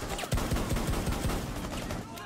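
Gunfire in the Rainbow Six Siege video game, a rapid automatic burst of about seven or eight close, punchy shots, over busy game noise.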